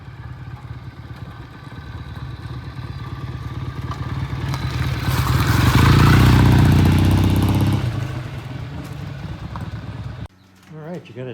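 A BSA motorcycle arrives back from a test ride, its engine rumbling louder as it nears, peaking close by, then idling steadily before it is shut off and a voice starts talking.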